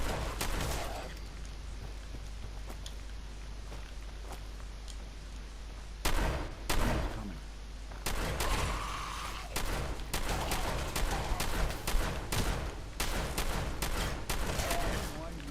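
Gunfire in Fallout 4 sounds as sharp, loud shots spaced irregularly over a low hum, some in quick clusters of two or three, with a few heavier blasts among them.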